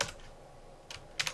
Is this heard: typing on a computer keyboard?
yes